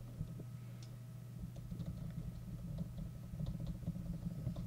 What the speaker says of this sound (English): Sorry if you guys hear me clicking my keyboard.